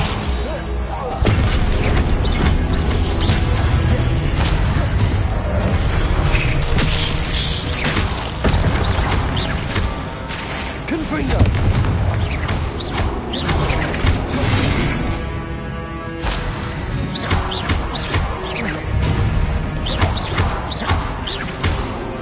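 Repeated booming blasts and crashing impacts from a Confringo fire spell in Hogwarts Legacy, loud and dense across the whole stretch, with whooshes and game effects layered throughout.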